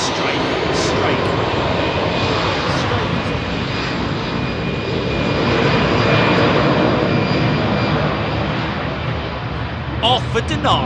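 A jet airliner on Heathrow's runway 27R gives a loud, sustained engine roar that swells slightly midway, while people talk intermittently over it.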